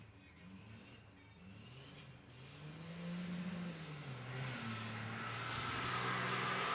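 A diesel semi truck racing down a drag strip at a raceway street-legal event, its engine note climbing and rising in pitch from a distance as it pulls away, with faint crowd noise beneath.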